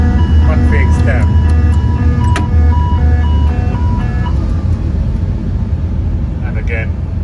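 A Boeing 747 takeoff configuration warning horn sounds in repeated tonal bursts inside a cockpit during a takeoff run, layered over loud, constant low engine rumble, with talking in the cabin.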